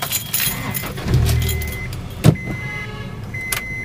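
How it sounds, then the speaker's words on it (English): A sixth-generation Honda Accord with a VTEC engine and aftermarket muffler starts up: a rising cranking rumble, then a sharp catch and settling idle, with a faint jingle of keys, heard close and alone. "Let's start the engine."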